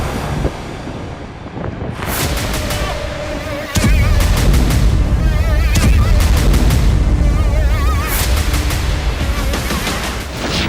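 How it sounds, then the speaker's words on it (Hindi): Bombs striking coastal buildings in an Israeli air strike on Lebanon, heard as loud, dense rumbling blasts and crackling bursts over heavy wind noise, continuous and harsh throughout. "जरा इस वीडियो में देखिए कैसे तट के पास मौजूद इमारतों पर बम बरसाए जा रहे हैं"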